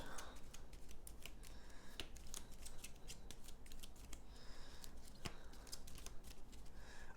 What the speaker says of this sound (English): We shuffle these up.